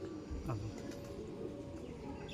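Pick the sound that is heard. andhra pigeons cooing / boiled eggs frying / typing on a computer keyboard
andhra pigeons cooing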